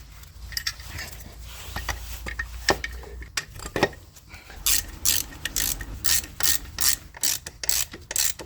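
Ratchet tightening the alternator bolts on a Mini Cooper S R53, with rapid clicking bursts that start sparse and grow into steady, loud, rhythmic strokes up close, without talking.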